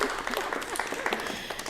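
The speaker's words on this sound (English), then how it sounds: "And We can clap." Workshop participants clap together at a dance and fitness workshop, a quick, fairly faint patter of hands that carries on steadily with no one speaking over it.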